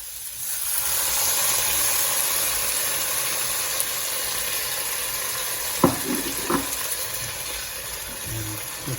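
Tamarind juice hits a hot frying pan with asafoetida while cooking aubergine rice, giving a steady loud sizzle and hiss that persists throughout, with a few clinks of a utensil later on.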